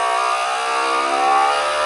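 A FoodSaver vacuum sealer runs with a steady, loud motorized whir and hum, a continuous pump drone holding without a break for the whole stretch and with no voices over it.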